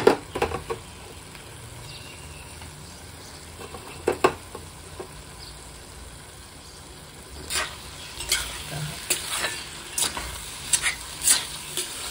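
Potato sabji with garlic greens is stirred in a pan over a soft, continuous sizzle, with scattered spoon scrapes and taps growing more frequent in the second half, close and moderate.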